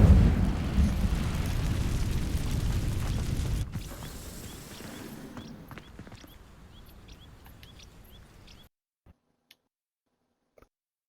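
Incendio fire spell from Hogwarts Legacy igniting dry vines: a loud roaring, crackling burst of flame that dies down over several seconds into faint ticks, then near silence.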